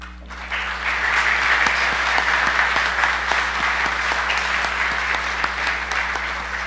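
An audience applauds recipients of the 2017 Queen's Birthday Honours at a Cayman Islands ceremony, sustained dense clapping that swells after a moment and holds steady over a low hum.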